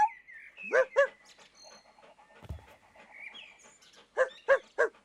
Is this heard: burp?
no